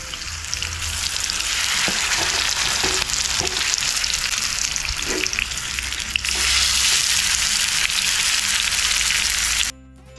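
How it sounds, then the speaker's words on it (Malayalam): Chicken leg pieces frying in hot sunflower oil, a loud dense sizzle that holds steady before cutting out abruptly near the end, with no voices. "എണ്ണ ചൂടായതിനു ശേഷം നമുക്ക് ഇതിലെ ചിക്കൻ പീസ് ഓരോന്നോരോന്നായിട്ട് നമുക്ക് നമ്മുടെ എണ്ണയിലേക്ക് ഇറക്കി കൊടുക്കാം"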